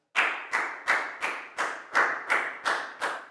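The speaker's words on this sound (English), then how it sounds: "Big round of applause for Down" Rhythmic clapping in a classroom for a student, about nine evenly spaced, sharp, ringing claps in quick succession, close and clear with no talking.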